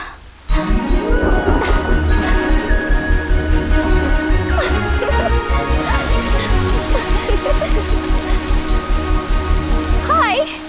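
Loud rain drums steadily on a surface in a rhythmic pulsing patter, close and continuous, with a low rumble beneath and faint voices near the end.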